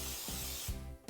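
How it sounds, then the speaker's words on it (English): Non-stick baking spray hisses steadily from a can into a baking pan, a close, continuous spray with a brief pause and a final short burst at the end. "We're gonna take a non-stick baking spray."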